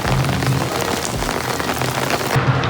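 Steady rain falling outdoors at a temple complex, a dense, loud hiss of drops striking surfaces that runs without a break, with no voices heard.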